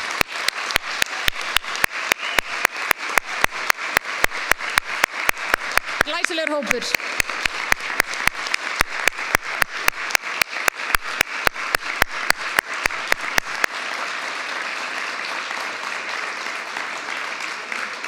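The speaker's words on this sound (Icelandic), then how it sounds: "gefu þeim gott klapp" A crowd at a graduation ceremony claps in rhythmic unison, sharp regular beats against a steady wash of applause, then the beats stop and only loose clapping remains. A voice speaks briefly over it.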